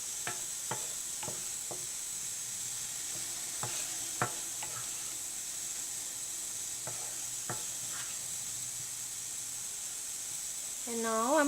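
Cashew paste masala is stirred in a pan with a low, steady sizzle and scattered spoon taps and scrapes, ending in a brief louder rising whine.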